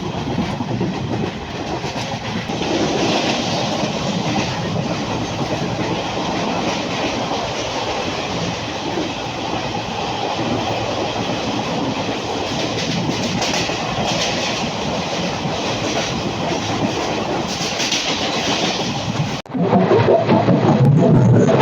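The 13187 Maa Tara Express rolls along the rails, a loud continuous rumble of wheels and carriage noise with rhythmic clacking over the joints, heard from on board, the tone shifting sharply near the end.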